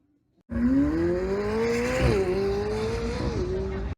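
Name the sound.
Ferrari Challenge Stradale race car launching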